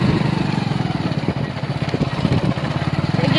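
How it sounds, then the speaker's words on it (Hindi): Motorcycle engine running steadily up close while riding out from a village home on a foggy morning past wheat fields, a continuous mid-pitched drone with some wind rush throughout. "तो चलिए मैं इसी बाइक से हम चलेंगे।"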